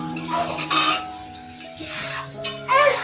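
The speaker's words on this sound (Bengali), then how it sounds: "আর এদিকে হচ্ছে কুমড়ো ভাজা হচ্ছে" Pumpkin frying in a pan on a home kitchen stove during Ranna Puja cooking, with a soft sizzle under bursts of metal utensils scraping and clinking against the pan.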